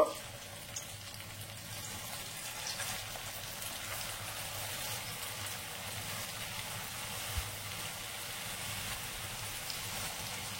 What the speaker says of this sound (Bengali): এবার আমি মিডিয়াম আঁচে উল্টে পাল্টে মুচমুচে করে ভেজে নেব।